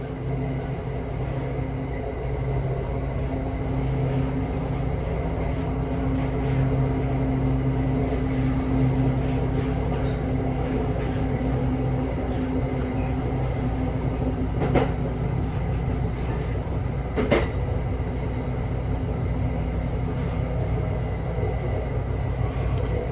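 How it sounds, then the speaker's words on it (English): An intermodal freight train on the Norfolk Southern main line near Cresson, Pennsylvania, passes as a steady rail rumble and clatter heard from a moving Amtrak passenger train, with two brief sharp clanks and no voices. "And there's yet another intermodal up on the High Line."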